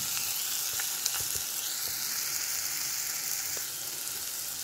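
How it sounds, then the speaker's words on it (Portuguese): Onion and garlic fry in hot oil in a pan, a loud, even hiss with scattered crackles and a few soft clicks of a utensil throughout. "Deixa refogar aqui um pouquinho, fritar um pouquinho."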